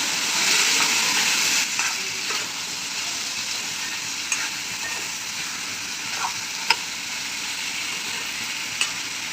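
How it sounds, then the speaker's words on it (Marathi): Spiced elephant foot yam (suran) sizzles steadily while being stirred and fried in a pan, with a constant hiss and a few sharp ticks of the spoon against the metal. No voices are heard. "सर्व मसाले मिक्स करून घेऊ मसाल्यामध्ये आपण चांगल्या प्रकारे फिरवून घेऊया"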